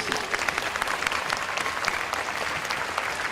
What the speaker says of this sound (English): Yeah, let's clap for yourselves.